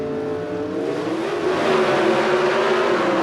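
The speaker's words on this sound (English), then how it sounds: "On the starting line, it is Pro Stock Eliminator, a pair of Chevrolets." A pair of Pro Stock Chevrolet drag racing cars at the starting line of Atlanta Dragway, 1981 Southern Nationals, engines revving loudly and climbing in pitch as the roar swells, no voices.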